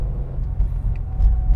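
Car driving along a road away from highways, a steady low rumble of engine and tires heard from inside the cabin, close and fairly loud, with no one talking.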